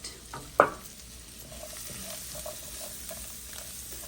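Palak paneer ingredients with garlic and green chilies stirred in a pan over low heat, one sharp utensil knock early on, then quiet scraping and faint sizzling, no voices.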